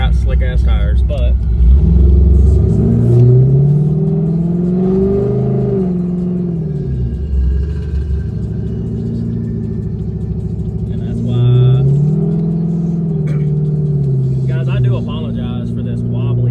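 A Pontiac G8 sedan's engine revs up and rises in pitch as the car accelerates, then eases off and surges again, a loud, close interior drone with someone talking over it.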